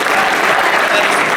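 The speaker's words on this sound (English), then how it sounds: "That deserves a round of applause." At a college programming forum for advisors in Coralville, Iowa, an audience breaks into loud, sustained applause, a dense wash of clapping that holds steady from start to finish.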